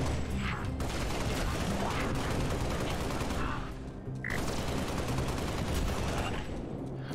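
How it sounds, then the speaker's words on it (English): Turret gunfire in the video game Halo: Spartan Strike, a dense, continuous barrage of rapid shots with a brief lull partway through, loud and close. "Ooh, a turret."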